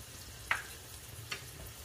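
Onion with saffron frying in a pan while being stirred, a faint low sizzle with two brief scraping stirs, close and quiet.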